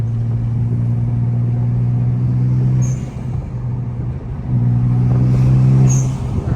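An upgraded turbo six-speed BMW 335i drives along a country back road. The engine gives a loud, steady in-cabin drone that eases off briefly mid-way and then returns, with a faint hiss near the end.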